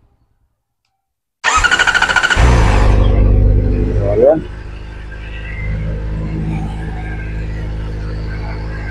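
After silence a Kawasaki Ninja ZX-4RR motorcycle engine cranks and fires, revs briefly, then settles into a low, steady idle; someone speaks briefly over it.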